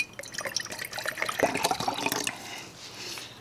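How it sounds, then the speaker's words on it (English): Distilled water poured into a container for a small lithium and water reaction, a close, lively splashing trickle that swells midway and then tapers to a quiet hiss. "I'm just going to pour some distilled water in here"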